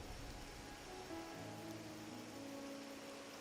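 Steady rain falls in the video game Wuthering Waves, a soft continuous patter under faint sustained musical tones, quiet and unbroken.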